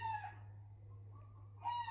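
A hen clucks and crows in a couple of short bright calls near the start and end, over a low steady hum.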